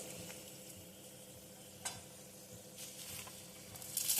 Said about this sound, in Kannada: ಗುಂಟೂರು ಮೆಣಸಿನ್ಕಾಯಿನ ನಾನು ಫ್ರೈ ಮಾಡೋಕ್ಕೆ ತಗೊಂಡಿದ್ದೀನಿ ಇದಕ್ಕೆ ನಾನು ಈರುಳ್ಳಿ ಬೆಳ್ಳುಳ್ಳಿನೂ ಕೂಡ ಹಾಕ್ಕೊತೀನಿ